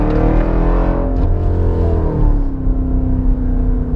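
A Jeep Grand Cherokee Trackhawk accelerates hard, heard from inside as a loud, steady engine roar whose pitch climbs and then levels off, with no talking.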